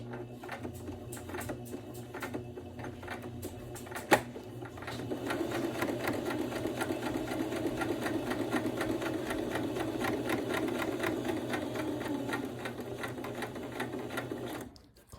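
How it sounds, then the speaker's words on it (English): Sewing machine stitching and back stitching an outdoor pillow case, a steady fast mechanical whir and rapid needle clatter running for about ten seconds after a few short starts, then stopping abruptly. "Do some sewing. Back stitch."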